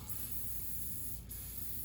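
A short, faint continuous hiss of oil being sprayed lightly from a can onto a STIHL 400c chainsaw's uni foam air filter, steady with no voices.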